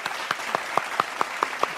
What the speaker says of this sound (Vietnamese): một tràng vỗ tay để chào đón tất cả quý vị khán giả